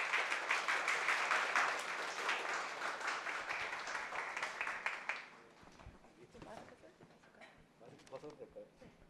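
A large audience gives a big round of applause welcoming a professor onto the stage at a police academy exam-strategy seminar, dense steady clapping for about five seconds before dropping away into scattered claps and murmuring voices.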